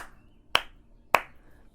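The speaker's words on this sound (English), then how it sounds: "I'm going to clap 3 times." Two sharp, bright hand claps ring out about half a second apart in a quiet room, each a crisp isolated crack with a short decay before silence returns.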